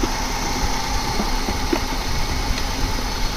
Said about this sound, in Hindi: आपको मैं गाड़ी का वाइब्रेशन और इंजन का साउंड सुनाता हूँ।